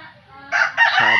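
A rooster in Mindanao lets out a loud, close crow that swells in two bursts, with other birds faintly in the background and no speech.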